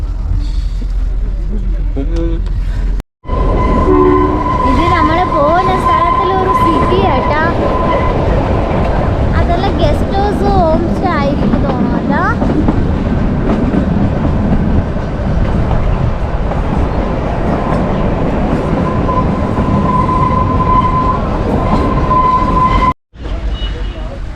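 The Kalka–Shimla toy train runs loudly and continuously with rumbling wheels and rail noise, squealing tones on curves, and a passenger voice speaking over the ride.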